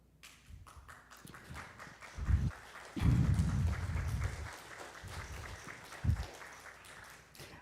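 Brief audience applause at a talk about an LGBTQ+ community service, a faint scattered patter of claps that swells for a couple of seconds, then thins out in a quiet room.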